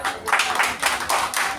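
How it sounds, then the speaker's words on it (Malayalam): Audience applause at a Malayalam community prize-giving event, a dense crackle of many hands clapping together with brief swells, steady and fairly loud throughout. "എല്ലാരും കൈയടിക്കുക."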